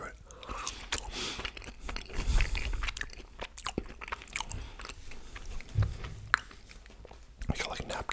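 Burger King food being bitten and chewed close to the mic, with crunchy bites and wet mastication interspersed with soft whispered talk, a couple of stronger crunch bursts standing out.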